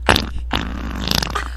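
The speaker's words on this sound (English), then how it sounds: "Can I just show you fart noise number 17, please?" A cheap phone app plays a comedic fart sound effect: a short, loud, spluttering burst in a few sputtering pulses lasting under two seconds, with no talk.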